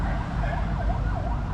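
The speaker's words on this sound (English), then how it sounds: "there's sirens going off, there's an ambulance or" An ambulance siren wails in a steady rising-and-falling pattern over heavy low road rumble, sounding fairly close as it passes along a street in the Philippines.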